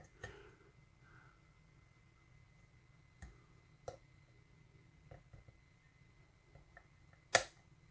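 Pins of a five-pin Schlage lock being picked give off a handful of faint, sharp clicks, widely spaced across a quiet background, with one louder click near the end.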